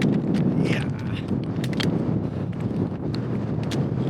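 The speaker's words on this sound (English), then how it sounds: "I would love to set you up, stand you up on the tripod, but it is too windy." Strong wind gusting across a fell summit in the Newlands Horseshoe area, a constant loud buffeting roar on the microphone with scattered crackles and no let-up.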